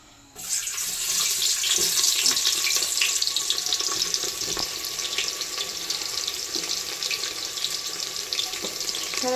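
Tap water runs steadily into a sink while rice is rinsed clean in a home kitchen, a constant loud rushing splash with faint clinks and scrapes, no voices.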